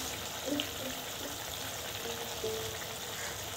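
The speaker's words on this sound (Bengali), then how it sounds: "তিন মিনিট ফুটতে দেবো।" Curry gravy for an egg and potato bora dish, seasoned with sugar and salt, bubbles in a pan with a soft, steady hiss that stays faint and unbroken throughout, with no voices.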